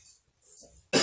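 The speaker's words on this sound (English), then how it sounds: "So why are you coughing?" A single sharp cough bursts out at the end after a brief stretch of near silence and faint breathy sounds.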